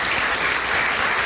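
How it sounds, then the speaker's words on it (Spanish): Dense, continuous applause from a seated audience at a constitutional law congress, honoring a speaker after a question session; loud and close, with no voices over it. "yo pido un aplauso para el doctor Méndez Sangüesa"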